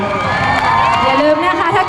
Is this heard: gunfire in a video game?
no